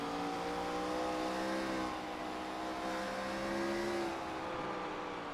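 A race car engine in the iRacing sim holds a steady, sustained drone with gently shifting pitch, as if held on the pedal, continuous and fairly loud throughout with no talk.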